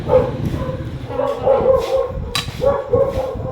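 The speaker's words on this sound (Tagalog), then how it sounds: "Yung mga aso namin guys, nangahabol." Several dogs bark and yip in short bursts at moderate distance, with some whimpering mixed in and faint voices in the background.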